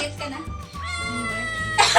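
A cat meows insistently nearby, its drawn-out cries rising and falling over about two seconds in a home kitchen where a birthday meal is being cooked, with a short noisy burst at the end.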